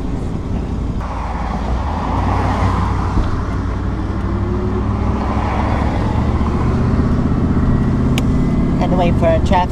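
Steady road traffic rumbles past at a Gulfport roadside, with cars and heavier vehicles blending into a loud continuous wash of engine and tire noise, close and unbroken, with a few faint higher chirps near the end.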